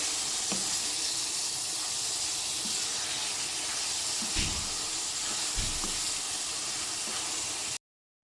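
About 600 grams of boneless chicken frying in a pan for a chutney chicken dish, giving a steady, loud, close sizzle with a couple of soft stirring knocks and no talking.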